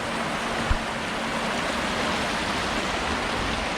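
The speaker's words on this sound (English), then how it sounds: "as you can see, it's a pretty big creek." Steady broadband rush of flowing creek water, continuous and fairly close, with no voices.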